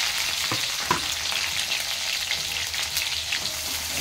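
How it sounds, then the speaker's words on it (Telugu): Onion and green chili fry in oil with a bay leaf, a steady close sizzle with faint stirring clicks and no talk. "మనకి ఎంత కావాలో అంత ఒక మంచి నూనె పోసుకుంటే ఒక ఆకు బగారాకు వేసుకోవాలండి. ఉల్లిగడ్డ వేసుకోవాలి,"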